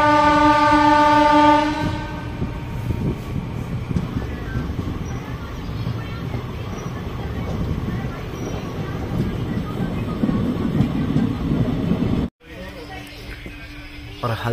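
A passenger train arrives at Haldaur railway station on the Moradabad to Dehradun line, opening with a loud horn blast and then a steady rumble and rattle of the moving coaches, with someone talking over it.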